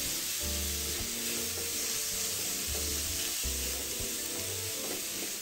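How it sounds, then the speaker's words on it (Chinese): Minced meat with garlic and onion sizzles steadily in a hot wok, a constant frying hiss broken by repeated low scraping and stirring knocks of a spatula. "一直炒到肉末颜色变浅，水分出来再炒干，略微出油，有香气"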